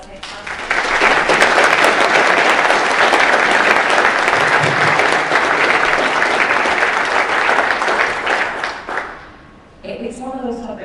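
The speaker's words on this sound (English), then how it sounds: "can you please give our panel a massive round of applause?" A large conference audience applauds a panel at an anti-doping session, loud, dense clapping that swells and holds for several seconds before fading, then a voice begins speaking.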